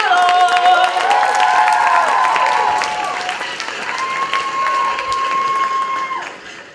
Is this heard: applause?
yes